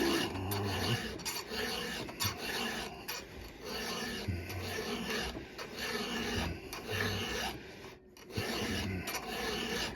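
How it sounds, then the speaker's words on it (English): A hand file rasps back and forth across a chainsaw tooth in steady repeated strokes, close and clear, each pass a gritty scrape with brief gaps between strokes and no talking. "So I'm gonna file this more than I need to"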